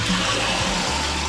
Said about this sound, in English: That does not sound like the water's turned off.